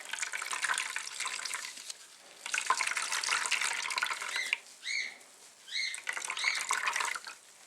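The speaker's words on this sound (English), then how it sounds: "drain some of that water and paint off" Water mixed with paint draining off in a steady close splashing flow, broken by short pauses, with faint chirps in the background and no talking.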